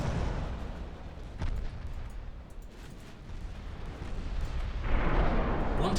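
A torpedo strikes an enemy warship in the naval game Ultimate Admiral Dreadnoughts, giving a dull explosive boom that swells again near the end, over a steady rumbling background.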